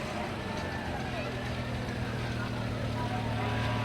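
A long, slender Jaguar roadster with a six-cylinder engine mounted well forward rolls past in a parade, its engine hum blending into a steady low rumble of street noise while people chat nearby.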